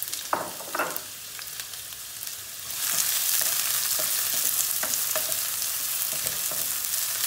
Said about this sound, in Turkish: Soğanlar da rengini kaçırana kadar bir kavuracağız.